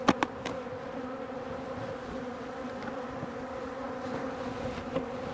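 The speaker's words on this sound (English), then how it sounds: "Now look how calm those bees are compared to that other hive." Calm honeybees buzz in a steady, even drone at a hive while it is being fed, with a few brief knocks at the start and no voices.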